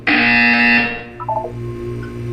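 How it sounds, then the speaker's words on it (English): A loud electronic buzzer blares in a Portal 2 test chamber, a harsh sustained tone lasting under a second, followed by a short beeping chime over steady room hum. "You will hear a buzzer."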